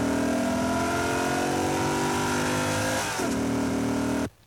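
A 1992 Chevrolet Corvette accelerating, heard from inside the cockpit: a loud, steady engine drone climbing through the revs, a brief dip at a gear change, then rising again before cutting off.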